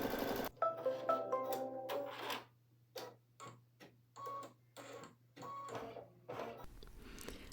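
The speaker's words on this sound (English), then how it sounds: "This is the placement stitch for a piece of clear vinyl, as well as the outline for the treat bag on the stabilizer" Working in the hoop, an embroidery machine sews a placement stitch for clear vinyl on stabilizer for a Halloween treat bag, making quiet, close bursts of rapid stitching broken by short pauses, with no talking.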